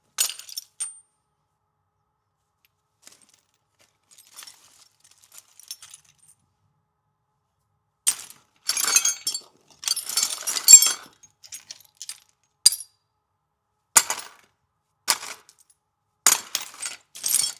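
Metal sockets clink and rattle in bursts as someone rummages through a set, with scattered light clinks early and a denser run of jangling near the end.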